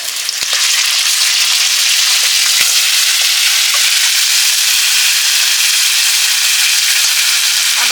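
Onions frying in a pan with cumin and dried red chilli paste added, cooking for a fish curry: a loud, steady, close hiss of sizzling oil that holds throughout, with a few faint clicks and no talk.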